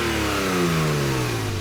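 A 2017 Porsche 911 Carrera S Cabriolet engine revs steadily in a smooth, continuous rising drone, loud and close throughout the short stretch, with no voices.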